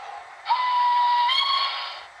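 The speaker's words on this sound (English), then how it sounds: "nice little LNER whistle there" A steady, shrill whistle from a Hornby B12 model steam locomotive with DCC sound, in LNER style, sounds for about a second and a half, beginning abruptly and cutting off, over a light background hiss.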